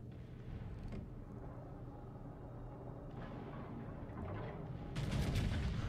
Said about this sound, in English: Front gun's gonna reload, and I'm gonna smack the New York.